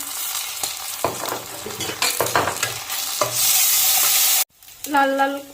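Ginger paste, coconut and raw chickpeas sizzle in a hot pan under rhythmic spatula scrapes. The frying swells to a bright roar, cuts off abruptly, then a brief tonal hum follows.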